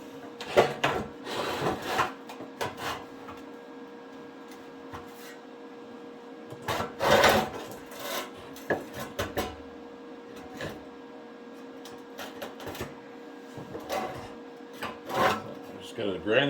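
A handmade orthotic part being ground down in short bursts of rough, rasping abrasion, close by and fairly steady, with some speech in between.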